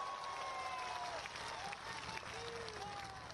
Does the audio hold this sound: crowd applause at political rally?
yes